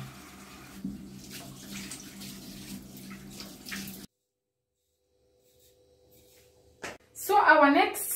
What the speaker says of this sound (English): So we must wash our ingredients first before we start cooking.